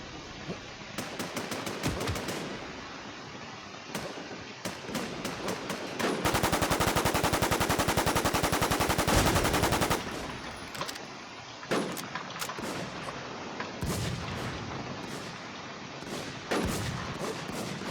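Bursts of gunfire in the WarZ online shooter on the Westoaks map: rapid single shots and short volleys, then a dense sustained automatic burst for several seconds, followed by more scattered cracks, loud and close, with no talk.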